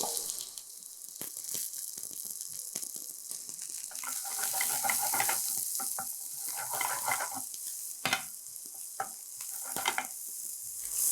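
Steady sizzling of chopped shallots frying in hot coconut oil with occasional stirring clicks and scrapes, close up, no speech.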